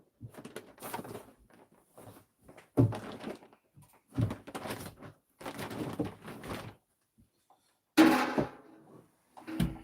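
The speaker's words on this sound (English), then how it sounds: "I just need to shut this door." A door is pushed shut indoors, with a few sharp knocks and thuds spread over several seconds, fairly close and separated by quiet gaps.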